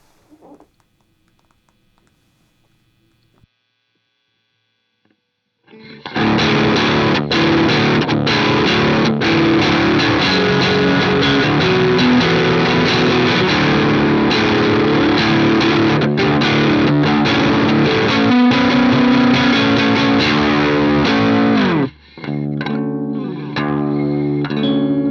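Electric guitar runs through an OBNE Beam Splitter pedal with three drive paths blended in parallel. After a few quiet plucks it breaks into a loud, thick distorted chord wash that holds for about fifteen seconds, cuts off briefly, then resumes.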